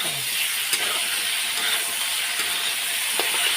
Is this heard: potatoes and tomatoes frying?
yes